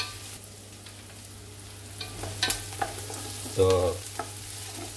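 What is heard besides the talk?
stirring vegetables frying in a pan for samosa filling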